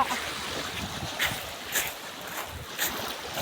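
A boat moves across open water, with a steady rushing wash of water and wind and occasional soft splashes.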